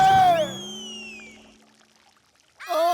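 Cartoon water gushes out in a Malayalam animated comedy, a bright sliding effect that starts loud, fades over about two seconds, then returns with a short burst near the end.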